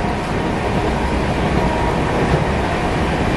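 A passenger train pulling out of Mathura station, heard from on board as a loud, continuous rumble and rattle of rolling wheels and carriages, steady throughout.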